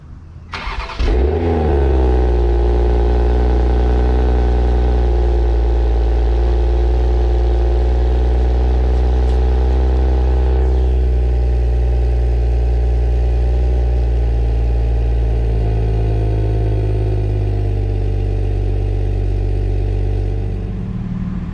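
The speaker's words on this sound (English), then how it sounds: "So, you guys ready for a not so cold start on the Supra?" A 2021 Toyota Supra cranks and fires, its engine catching with a loud burst, then settling into a steady, deep, rumbling idle that continues for about twenty seconds with no talking.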